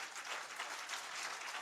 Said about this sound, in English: Let's clap our hands and thank Team L3.